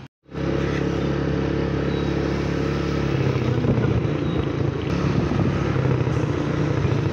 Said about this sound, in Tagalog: palabas na din po yung motor